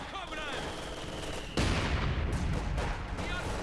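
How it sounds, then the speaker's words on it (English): Machine gun fire crackles in the strategy game Company of Heroes 2, with rapid bursts and a heavier cluster of shots after the first second and a half, all layered over other battle noise. "They're quickly being sought down there by grenadiers with the likes of this machine gun."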